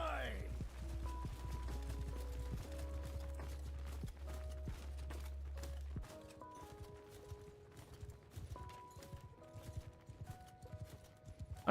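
Horses galloping in Mount & Blade II: Bannerlord during battle, a quick continuous patter of hooves at moderate distance with metallic clanks and musical tones over it, plus a low rumble in the first half.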